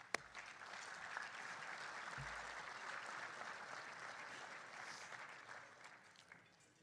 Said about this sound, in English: So a round of applause for those folks, please.